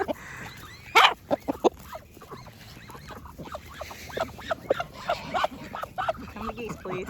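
Geese honking among a flock of backyard chickens and geese, with scattered loud squawks and clucks over a busy outdoor commotion while people talk and call nearby.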